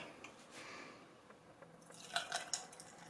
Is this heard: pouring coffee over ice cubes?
yes